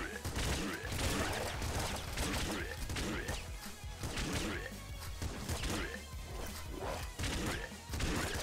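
Rapid video-game gunfire from the top-down shooter Nuclear Throne, dense bursts of loud blasts, impacts and crashes layered continuously with game effects and a talking voice.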